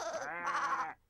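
A cartoon sheep gives one drawn-out, wavering bleat that lasts about a second, loud and close, then cuts off into silence.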